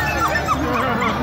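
Sled dogs yip and bark excitedly in a brief burst at the start of a sled dog race, with a crowd's voices mixed underneath.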